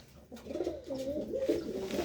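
An old-breed pigeon coos close up, a low rolling burble repeating in quick wavering phrases over quiet surroundings.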